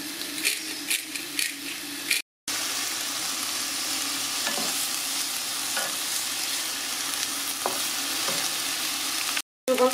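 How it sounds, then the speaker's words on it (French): Bacon lardons and onions fry in a pan, a constant loud sizzle broken by the scraping knocks of a spoon stirring, with no talk. "quand les lardons et oignons, vous voyez, commencent à bien dorer"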